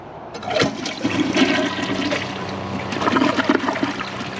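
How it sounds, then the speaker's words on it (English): A 2015 Kohler Cimarron Class 6 toilet flushes with a sharp start, then a rushing swirl of water draining through the bowl, heard close and alone. "But first, let's start out with a flush."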